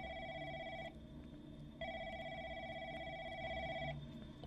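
A telephone rings in The Lancaster Leak, a Korean horror game set in a call center, two electronic trilling bursts separated by a pause, steady and fairly loud with no talking over it.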